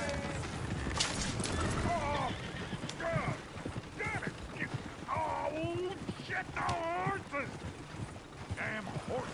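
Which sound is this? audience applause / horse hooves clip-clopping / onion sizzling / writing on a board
horse hooves clip-clopping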